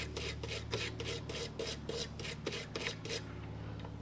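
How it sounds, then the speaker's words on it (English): A small brass brush scraping parts on a vintage Datsun 521 pickup, with a regular back-and-forth rasping rhythm of about a dozen quick strokes, close but quiet, stopping near the end. "I'm just going to use a little brass brush, and we'll just kind of scrape it up here."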